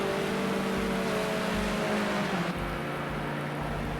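Race cars in the video game Project Cars 2 accelerate hard at the Sakkito circuit, a steady, droning engine note climbing in pitch and then shifting after a gear change, with no voices.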